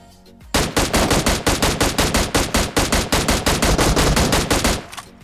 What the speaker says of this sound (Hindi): हमें एक DP का साउंड आता है